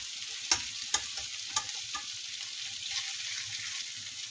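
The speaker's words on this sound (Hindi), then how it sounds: "चलिए एक दफ़ा हम लोग साइड इसकी चेंज कर लेते हैं चिकन की।" Chicken pieces for homemade shawarma sizzle in a hot pan as they are turned, a steady bright fry hiss broken by a few sharp clacks of the utensil near the start.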